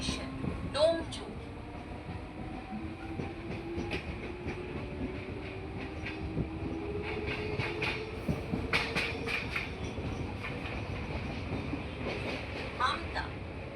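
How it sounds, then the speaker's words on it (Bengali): A Howrah to Amta local train arriving at Domjur Road: steady rail clatter and rumble from inside the carriage with rhythmic wheel knocks and faint squeals, a constant moderate level throughout. "আমাদের ট্রেন এসে পৌঁছালো ডোমজুর রোড।"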